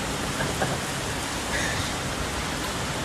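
Steady, dense rain pours down during a hailstorm in Texas, a continuous close wash of noise with no pauses and no voices.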